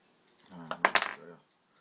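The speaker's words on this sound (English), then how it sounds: "So let's cut those wires." Small clippers snipping wires on a Kanger T3-S vape coil during rewicking with Bastos wick, a brief cluster of two or three sharp close metallic clicks with a soft rustle, no talking.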